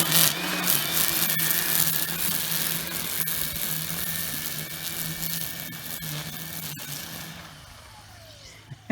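A Milwaukee battery-powered string trimmer cuts through grass downtown, giving a steady whirring hum with scraping texture that fades near the end.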